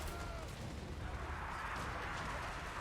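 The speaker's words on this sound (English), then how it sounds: "careful with the cannons." Cannon artillery fire in Total War: Warhammer 3 during a Chaos Dwarfs siege battle, a continuous dense rumble of distant booms and battle noise without clear separate shots.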